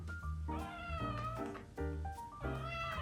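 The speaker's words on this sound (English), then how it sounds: "Say hi to my cat." A pet cat meows repeatedly in a series of clear, tonal, drawn-out calls, close and distinct indoors, with no talking over it.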